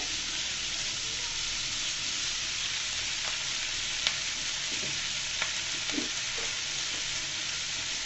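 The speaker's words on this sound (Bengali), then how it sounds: "পেঁয়াজ ফলেগুলো দিয়ে আমি দু তিন মিনিট এভাবে ভেজে নিব তেলের মধ্যে" Sliced onions fry in oil in a pan for a tomato egg stir-fry, producing a steady, close crackling sizzle throughout, punctuated by a few faint stirring clicks and scrapes, without talking.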